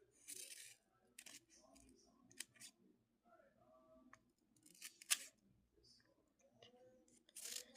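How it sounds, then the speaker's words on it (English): Scissors snip in short, crisp bursts spaced irregularly, close by and fairly quiet, with soft handling noises and occasional talk between the cuts. "these scissors are not working properly"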